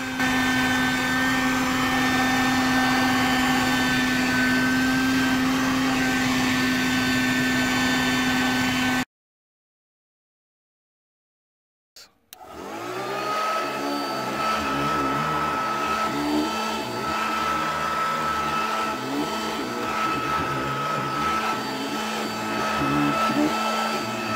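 A Dirt Devil handheld car vacuum whines loudly with a steady motor drone, cuts out into a few seconds of silence, then starts up again and runs on.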